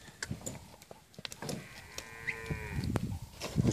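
Cattle lowing at a livestock auction where sixteen cows and a steer are sold, several drawn-out moos rising over the sale-ring clatter and background bustle, with no talk.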